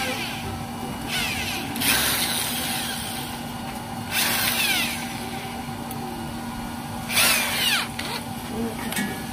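A power drill whirs in several short bursts while drilling a burner nozzle, against a steady background hum of machinery.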